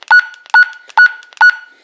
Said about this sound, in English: we can turn that beep off too in the menu